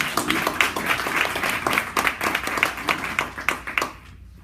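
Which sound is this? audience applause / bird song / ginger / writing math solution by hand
audience applause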